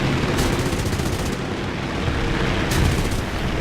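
Aircraft machine guns in War Thunder firing in long, dense bursts, loud and close, with a brief pause before the rapid clatter resumes and continues to the end.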